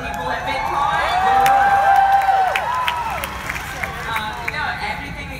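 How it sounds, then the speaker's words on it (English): Large crowd of people at VidCon, a dense steady hubbub of many voices with shouts and cheers rising and falling, talk mixed in throughout. "Look at all the people at VidCon."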